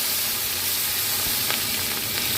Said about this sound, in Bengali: এবার আমি এতে এই যে তেজপাতা, শুকনো লঙ্কা, আর এই গোটা গরম মশলা, আর এই জিরেটা ফোড়ন দেবো।